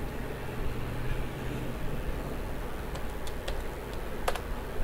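Typing on a computer keyboard while entering a formula in MS Excel: a few sharp, scattered key clicks in the second half over a steady background hum.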